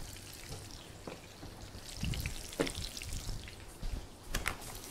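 Onions frying in a pan as the base for a sauce, a soft steady sizzle with scattered crackles and pops close by, no talking.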